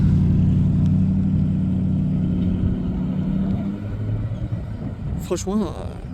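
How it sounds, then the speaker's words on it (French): A Porsche Panamera Turbo S with a V8 engine gives off a deep, steady rumble close by that eases slightly toward the end, when a voice briefly speaks over it. "moteur V8"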